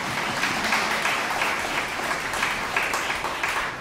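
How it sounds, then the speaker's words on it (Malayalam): An audience at a Catholic retreat in Bangalore applauds a speaker's wife with steady, even clapping that fills the whole stretch at a moderate level, with no voices over it. "ഒരു കയ്യടി എൻ്റെ ഭാര്യയ്ക്ക് കൊടുക്കണം"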